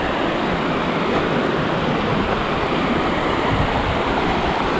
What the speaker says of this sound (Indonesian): Air yang langsung dari Gunung Merapi.